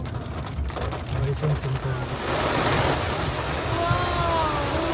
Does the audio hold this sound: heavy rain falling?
yes